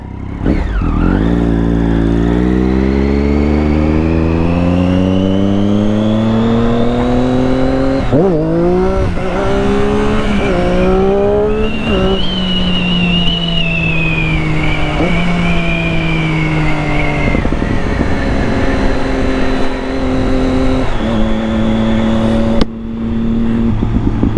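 A Triumph Daytona 675 motorcycle pulls away and accelerates hard through several gear changes, its engine note rising and dropping again and again. Loud, close and continuous, with no talking.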